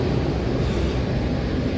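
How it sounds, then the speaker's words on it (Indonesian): Turangga passenger train preparing to depart in the dark early morning, a steady low rumble of idling rail cars and machinery running continuously, with a brief hiss partway through. "persiapan kereta api Turangga berangkat, kita masuk"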